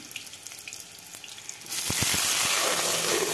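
Green chillies drop into hot mustard oil in a kadai. After a quiet stretch with a few small clicks, a loud, bright sizzle bursts in abruptly and keeps hissing, with several low pops near its start.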